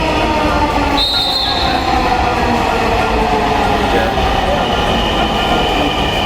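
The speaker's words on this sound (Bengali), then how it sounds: "ট্রেন অলরেডি চলে আসতেছে দেখেন একটা চলে আসছে" A metro train rumbles loudly and steadily close by as it rolls into a station, its wheels squealing against the rails.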